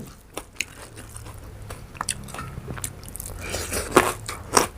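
Crisp, crackly bites and chewing of crunchy mature djenkol beans (luk niang) served with fermented-fish chili paste, close to the mic, with irregular crunches that grow louder toward the end.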